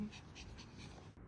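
A dog pants in steady, rapid breaths close by, a soft rhythmic huffing that runs through the whole moment with no talking.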